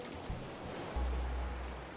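Ocean waves in the survival video game Raft wash and rumble softly in a faint, low, continuous surge with gentle swells and no voices.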